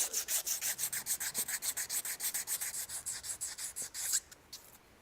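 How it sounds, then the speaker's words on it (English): A DESMI HD-series pump shaft is rubbed clean with quick, even back-and-forth strokes, a close, dry scrubbing rhythm of about twenty passes that stops abruptly near the end, with no talk. "Clean the shaft."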